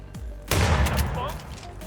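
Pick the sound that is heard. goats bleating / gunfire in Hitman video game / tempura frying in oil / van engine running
gunfire in Hitman video game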